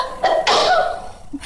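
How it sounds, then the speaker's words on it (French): A girl gives a single sharp, odd-sounding sneeze indoors, a quick loud burst followed by a short trailing breath. "elle a fait exprès d'éternuer autrement"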